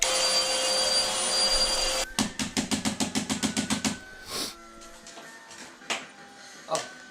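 A Hoover vacuum cleaner in a video game drones steadily and loudly for about two seconds, then cuts off into a rapid run of rhythmic clattering clicks followed by a few scattered knocks.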